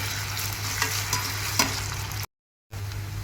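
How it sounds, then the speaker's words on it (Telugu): Ginger paste fries in a pan with a steady, close hiss and sizzle, broken by a few stirring scrapes, then a brief total dropout before the frying sound resumes. "ఇది కూడా పచ్చివాసన పోయేంత వరకు వేయించుకోవాలి"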